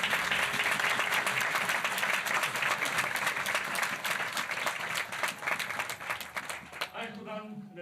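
Loud applause from a church congregation fills the space, dense clapping that fades toward the end as a voice begins speaking.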